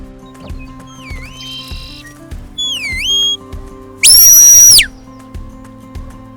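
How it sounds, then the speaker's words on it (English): A handler's herding whistle directs a border collie named Lass working sheep in an Idaho field: a short warbling call, a rising-and-falling double whistle, then one long, loud, shrill blast over a steady background clopping. "With whistle commands, Brown instructs Lass to run clockwise or counterclockwise to move the sheep."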